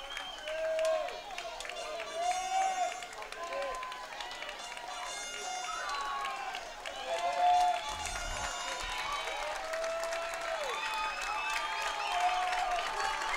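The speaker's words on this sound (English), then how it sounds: "Crowd getting loud." Crowd noise at a college baseball game between UTPA and Grand Canyon, a steady roar of cheering and clapping that swells louder late in a two-strike count, with a play-by-play announcer talking throughout.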